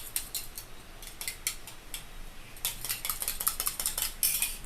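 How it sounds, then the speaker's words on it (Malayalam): A utensil clicks and taps rapidly against a bowl, whisking two eggs with salt in a kitchen, a quiet irregular clatter that grows a little louder and busier midway. "നമ്മൾ 2 മുട്ടയും കൂടി ചേർത്തുകൊണ്ട് നമുക്ക് മിക്സ് ചെയ്യാം"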